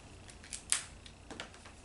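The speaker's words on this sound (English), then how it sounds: "So cut it so you have a 6-finger scrap of balloon." Scissors snip through a scrap of red latex balloon, a few quiet, faint cuts spread across a near-silent stretch with no voices.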